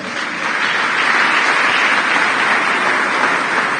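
A church congregation applauding during a sermon, a dense, sustained wash of clapping that swells slightly after the start and holds steady, loud and filling the room.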